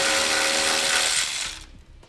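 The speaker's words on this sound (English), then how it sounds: "Now we need to remove this small little nut that's on the front side of the heat shield." A power tool spins off a small nut on the front of the heat shield of a 2016 Ford during a trailer hitch install, making a loud close whirring burst that winds down and stops after under two seconds.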